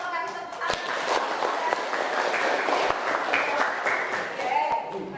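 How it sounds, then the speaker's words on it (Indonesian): Students in a classroom clap together in a short burst of applause, the claps close and fairly loud with a few sharp individual hits, while voices of the class chatter over it. "Kasih tepuk tangan."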